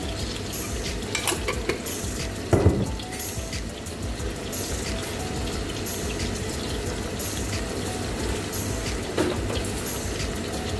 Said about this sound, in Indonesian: saya akan masak uh, tumis tumis tumis uh, brokoli untuk peneman makan